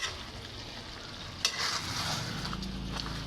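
A spoon stirs kare-kare in a frying pan, scraping with a sharp clack against the metal amid a steady close sizzle that grows slightly louder toward the end.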